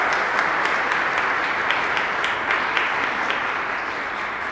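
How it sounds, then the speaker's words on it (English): An audience at an annual parish meeting applauds steadily for several seconds, a dense even wash of many hands clapping at moderate distance with no talk over it. "Why don't we give Michelle a round of applause?"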